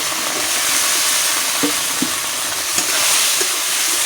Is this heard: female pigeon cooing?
no